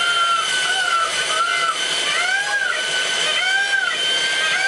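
A grinder driven by a bolt on its end mills homemade chicken feed, giving a loud, steady high-pitched whine with rising and falling tonal sweeps, close and alone.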